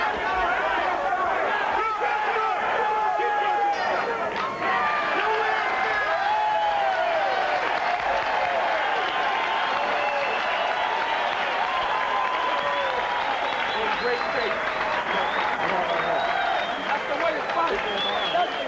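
A large crowd at a USA versus Cuba amateur boxing dual meet roaring and applauding as a round ends, a dense, sustained wall of cheers, whistles and clapping with a commentator's voice running beneath it.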